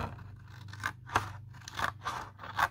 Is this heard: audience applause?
no